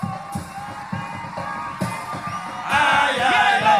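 Studio audience on a comedy television show breaking into loud applause and cheering, dense crowd noise swelling toward the end, with sharp percussive hits and a voice over it.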